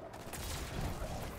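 A machine gun fires in Destiny 2 as a steady, dense roar of rounds, loud and continuous throughout the short burst.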